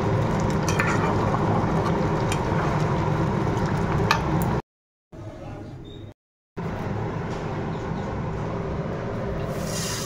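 Vermicelli (semai) frying in ghee, giving a loud, steady, dense sizzle that is briefly cut by two short silent gaps before it resumes at the same level.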